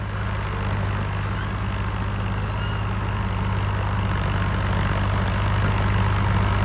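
A tractor engine runs with a loud, steady, low droning rumble that holds unbroken from start to finish, with no voices.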